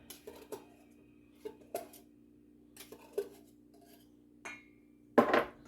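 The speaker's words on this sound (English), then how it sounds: "Get the cream cheese all mixed through so it's not lumpy." Spoon scraping and clinking against a bowl while sweetened condensed milk and cream cheese are stirred together for a chocoflan, with several separate knocks and a louder clatter at the end, no voices.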